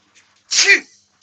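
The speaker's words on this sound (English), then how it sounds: "I'm going to sneeze." A single loud, close sneeze bursts out abruptly during a woodturning session in a workshop, with a brief sharp intake before it and near silence around it.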